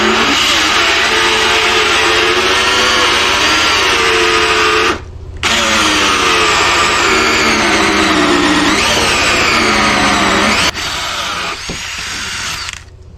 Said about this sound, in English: We got a larger hole saw. We're going to drill our hole through the stand.